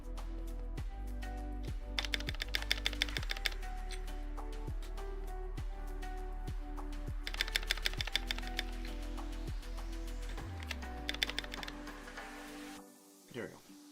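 GMMK Pro mechanical keyboard with new keycaps, typed on in two quick bursts of clacky keystrokes over a steady, beating tonal background.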